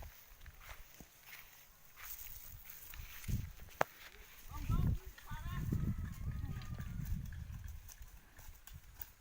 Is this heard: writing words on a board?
no